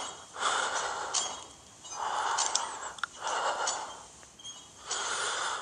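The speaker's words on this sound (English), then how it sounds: "this man's breathing too hard" Heavy, labored breathing from a character hiding from hunters in the Case Animatronics horror video game, four long rasping breaths in slow rhythm, close and fairly quiet with no talk.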